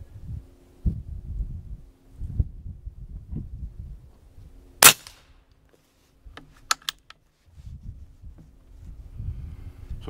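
A single sharp crack from a Umarex G2 .22 air rifle firing an H&N Baracuda pellet outdoors in light wind, with faint rustling and handling noise around it and a few smaller clicks afterward.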